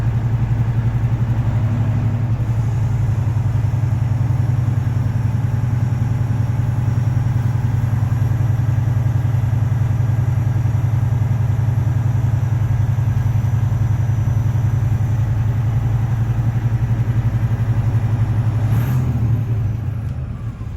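A truck engine idles at raised revs to build air pressure, a loud, steady low rumble with an even rhythmic throb that holds throughout, no voices.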